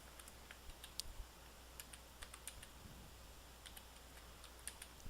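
Keys on a computer keyboard tapped in short irregular bursts while a screen name is entered on a touch-screen POS setup, soft, close clicks over a quiet room hum, no voices.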